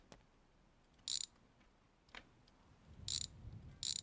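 A ratchet working loose drive shaft bolts in a garage, giving several short, crisp clicking bursts spaced apart with quiet gaps between.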